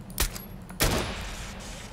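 Submachine gun fire in Far Cry 4, two sharp loud bursts close together, the second followed by a lingering echoing tail.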